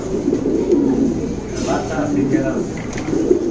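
A pair of large black fancy pigeons at a pigeon farm coo in a low, rumbling murmur beneath someone talking close by.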